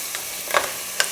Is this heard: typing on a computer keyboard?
no